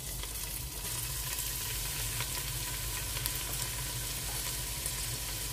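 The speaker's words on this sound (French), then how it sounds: "Une fois que l'huile est chauffée, on va venir renverser en fait l'oignon." Onions frying in hot oil for a chicken thigh dish in tomato sauce, a continuous, even, loud sizzle close to the pan with faint crackles throughout, no speech.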